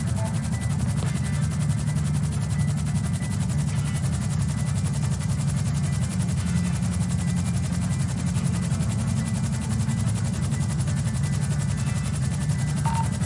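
A police helicopter hovers overhead in a GTA role-play game, its steady low rotor drone running unbroken and loud for the whole stretch with no voices over it.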